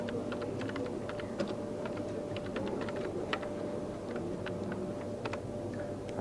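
A title being typed on a 1986 CAD computer keyboard produces a steady run of quick, close keystroke clicks over a low, constant machine hum.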